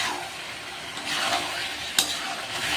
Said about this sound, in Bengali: ভালো করে নাড়াচাড়া করতে হবে যেন নিচে না বসে যায়